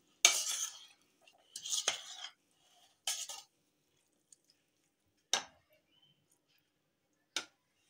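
Chana chaat ingredients are mixed with a spoon in a bowl, giving several short, close scraping and clinking bursts separated by silent gaps, the later ones brief and sharp.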